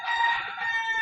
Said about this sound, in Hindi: अभी 11 बज रहे हैं और मुर्गे चिल्ला रहे हैं।